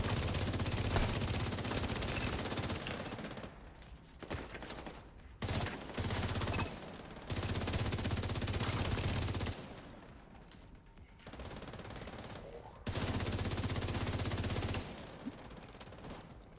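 Video game gunfire in repeated sustained bursts of rapid machine-gun fire, loud and close, with short pauses between volleys.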